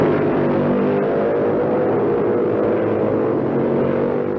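Racing motorcycles at the 1958 Isle of Man TT howl through low gears under hard acceleration on the road course near Braddon Bridge, a loud continuous engine roar with no pauses.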